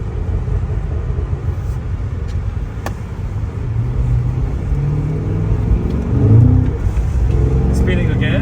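Cadillac CT5-V Blackwing with a 6-speed manual, heard from inside the cabin as it spins its wheels through the gears: a continuous deep engine roar and rumble that swells with revving, with a voice over it.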